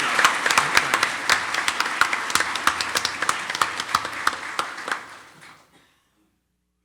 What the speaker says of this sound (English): we owe all of them our appreciation and a round of applause.